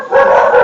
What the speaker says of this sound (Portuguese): tem os cachorros latindo aí fora